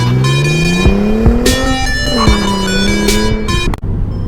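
A 2013 Hyundai Genesis Coupe 3.8 R-Spec drives with its V6 engine droning loudly up close, pitch rising and shifting through gears, with steady road noise throughout.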